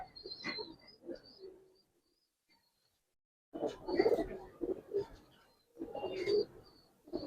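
Giribaz pigeons coo in soft, close bursts, a cluster of throaty calls at the start, then a silent gap, then two louder rolling coos.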